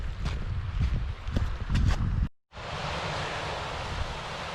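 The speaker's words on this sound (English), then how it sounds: "It's quite nice to hear the sound of that running water as it tumbles down through the valley." Running water tumbling down through a sheltered Pennine valley hisses as a steady broadband rush, preceded by footsteps and wind buffeting before a brief cut.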